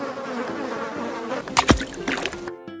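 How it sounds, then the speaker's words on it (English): A yellow bee from a set of animal toys buzzes close and steady, a thin insect drone that swells briefly near the end before cutting off, with no talking over it. "Yellow bee."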